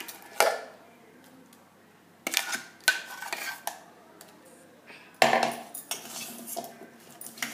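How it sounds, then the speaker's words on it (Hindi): A spoon works ground spice paste into tender baby mangoes for pickle, heard as separate bursts of metal clinks and scraping against a vessel with quiet pauses between them. "இதை இப்போ நம்ம மாங்காயில போட்டு mix பண்ண போறோம்"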